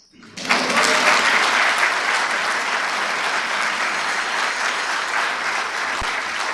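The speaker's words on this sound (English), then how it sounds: "That could be applause." Sustained applause from the audience at a Riverside County Board of Supervisors meeting, beginning abruptly and holding at a full, even level throughout, with no speech over it.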